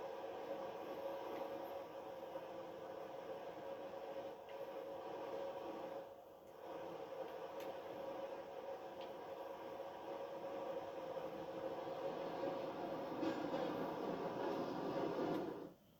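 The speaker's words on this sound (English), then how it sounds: "let's listen to the train depart." A steady video game train rumble with a mechanical hum rolls on continuously as the train departs, briefly dipping once before carrying on and cutting off at the end.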